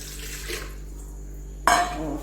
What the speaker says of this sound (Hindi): और इसमें मैं डालूंगी